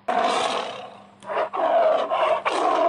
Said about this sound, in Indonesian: Tetapi singa mengaum lebih keras lagi.